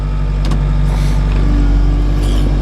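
A Bobcat Toolcat utility vehicle plowing snow runs with a loud, close, steady diesel drone and a low-pitched hum, broken by brief scraping and clanking bursts.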